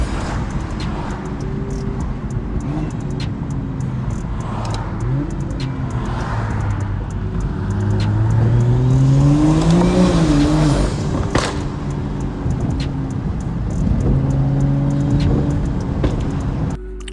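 BMW N55 flex-fuel car accelerating hard on a drive, loud engine roar with rising pitch sweeps through the gears, building to a peak mid-pull then easing and surging again, close and continuous.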